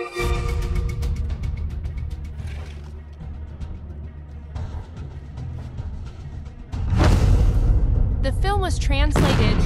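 Fireworks go off at a birthday celebration, loud crackling bursts and booms with whistling sounds in the last few seconds, following a stretch of louder mixed noise while people talk.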